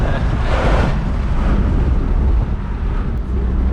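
Gusty crosswind on a road entering Dagestan from Kalmykia rushes and buffets the microphone in a steady low roar, with brief surges and no voices.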